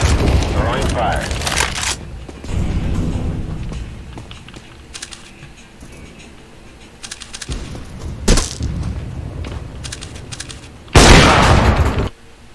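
Grenades thrown in the video game PUBG, an incendiary and a flashbang: sharp broadband bursts and booms stand out near the start, midway and loudest near the end, over clicky keyboard-like tapping and voices.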